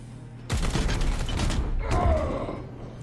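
Gunfire in the tactical game Warhammer 40,000: Chaos Gate, a sudden loud burst of clattering shots and mechanical rattling that keeps going for about two seconds before a fainter tail, with no talking over it.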